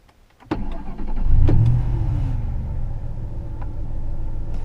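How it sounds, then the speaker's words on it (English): A car engine cranks briefly and catches during a battery cranking test with all accessories off, then settles into a steady idle rumble, close and fairly loud with no talking. "Let's do a cranking test. Turn all accessories off and start the vehicle."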